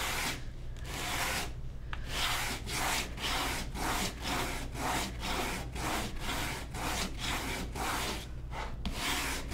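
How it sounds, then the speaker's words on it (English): Wet sanding of painted wood on a lazy susan, with the paint still slightly tacky: rhythmic back-and-forth rasping strokes, about one per half-second, close and steady over a constant low hum, with no talking. "I'm gonna kind of wet sand it."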